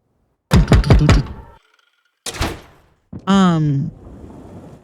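A back door in a house's mud room opens in the video game Starfield: a quick cluster of loud knocking thunks, a second heavier thump, then a short tonal mechanical whine over faint room tone.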